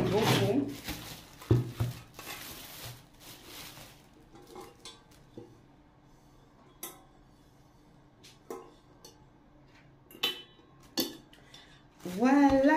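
Metal cooking pots and frying pans clank and clink as they are handled in a kitchen, with scattered sharp knocks and scrapes between quieter moments and a voice speaking in places.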